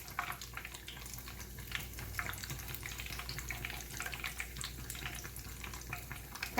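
A sandwich dipped in pancake batter fries in a pan, giving a quiet, steady sizzle and crackle with small irregular pops, close by and with no talking.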